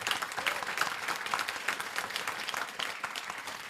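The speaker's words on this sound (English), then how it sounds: "First of all, round of applause for the panelists." A crowd claps for panelists at a plenary session, dense and sustained applause running throughout at an even level, with no break or fade.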